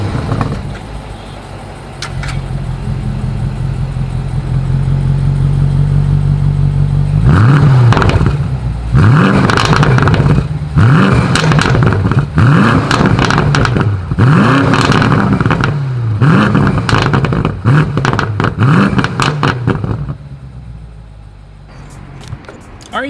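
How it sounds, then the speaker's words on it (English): A 2020 BMW M850i Gran Coupe in sport mode revs hard in repeated loud bursts, its exhaust popping and crackling sharply between the pulls, close by with no talking. "put it in sport driving mode here, and you guys will hear all of the wonderful crackle that comes with the M850i"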